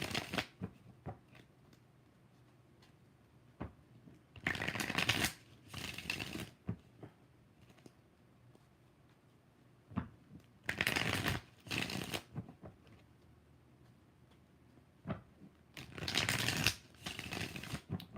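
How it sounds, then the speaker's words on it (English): Tarot cards riffle-shuffled close up in three quick bursts of crisp fluttering, separated by quiet pauses with light handling noise. "Let's do 3 more shuffles."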